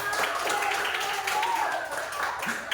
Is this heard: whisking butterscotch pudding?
no